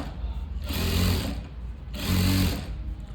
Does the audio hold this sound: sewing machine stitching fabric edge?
yes